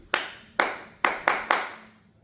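Hands clap a familiar rhythm, five sharp, ringing claps in a short-short, then quicker-triplet pattern, each with a brief room echo, heard alone with no talk.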